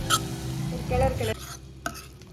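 A spoon stirs potato filling for stuffed paniyaram in a pan off the heat, with a few close scraping strokes and soft clinks against the pan over a faint sizzle.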